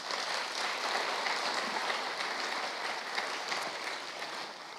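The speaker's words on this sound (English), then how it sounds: "Let's give him a round of applause." Audience applause for a guest named Peter at a church service, a steady dense wash of clapping that holds evenly throughout, moderately distant and fairly quiet, with no voices over it.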